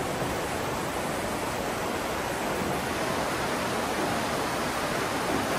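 A waterfall on a hiking trail roars in a steady, dense rush of broadband noise, constant and fairly loud with no breaks.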